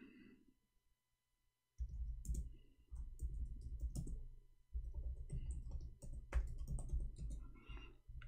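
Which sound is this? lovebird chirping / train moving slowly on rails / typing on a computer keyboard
typing on a computer keyboard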